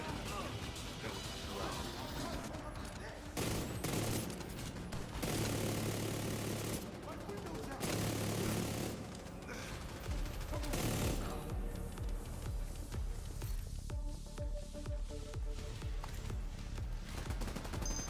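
Shotgun fire in the video game The Division 2, heavy blasts in a chaotic firefight that repeat at irregular intervals over constant battle noise and a droning hum, with voices talking during the action.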